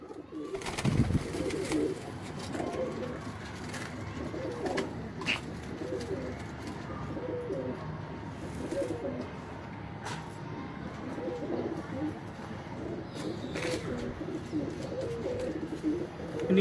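Pigeons coo steadily on a rooftop in Rahmanpura, Ichhra, with soft repeated calls running throughout over a noisy outdoor background.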